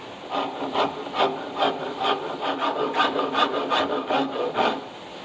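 A rough rasp carves a quarter-sawn maple guitar neck in steady back-and-forth strokes, about two per second, close and moderately loud, with no talk.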